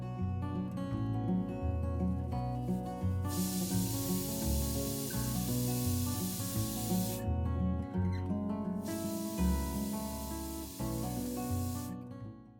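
A pressure cooker on high flame boils carrots in milk for gajar halwa, giving two long, loud hissing steam whistles separated by a pause, with steady background music underneath.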